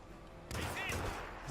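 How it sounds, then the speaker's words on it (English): Gunshot in the Hitman game: a single sudden loud report cuts in partway through, followed by a sustained rumbling tail, under faint background noise. "Gunshot! We gotta see where that came from."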